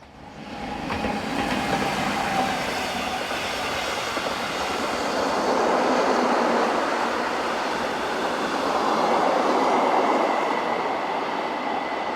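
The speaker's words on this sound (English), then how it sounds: "sister locomotive number 646, powering the first northbound train of the day" A passenger train hauled by locomotive 646 rumbles steadily past close by on the St. Moritz to Chur line in Switzerland, wheels clattering on the rails in a continuous roar that swells and holds throughout, with no voices.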